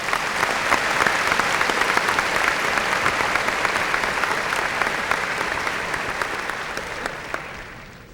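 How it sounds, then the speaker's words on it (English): A crowd at a 1998 high school graduation ceremony claps loudly and steadily for about eight seconds. The dense applause tapers off gradually at the end. "Please give these people a round of applause."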